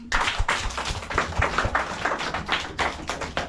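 Schoolchildren in a Kibera community school clap for their teacher, a lively close burst of uneven claps and taps from a small group, fairly loud and without talking.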